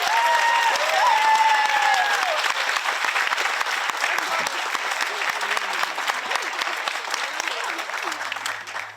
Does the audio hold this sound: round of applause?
yes